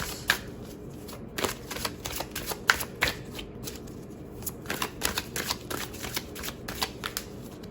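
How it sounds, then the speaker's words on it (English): Oracle cards being shuffled by hand, a close, crisp run of riffling bursts and soft flicks with brief pauses between, no voices. "Let's pull a few oracle cards."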